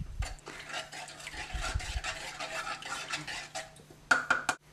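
Salt being stirred into water in a metal pot, giving a steady scraping, clinking swirl of utensil against the pot that runs through the clip and ends with a few sharper knocks.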